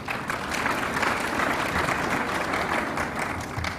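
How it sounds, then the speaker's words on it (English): An audience at a conference in Zambia applauds, a dense, even wash of clapping that holds steady from start to finish with no talk over it. "A round of applause."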